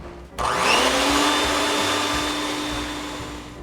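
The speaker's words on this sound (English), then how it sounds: "Here's the second egg, and I'll let my mixer mix it up for a little bit." An electric stand mixer starts up and runs steadily, mixing an egg into potica nut-roll bread dough, a loud continuous motor whine close by with no talking.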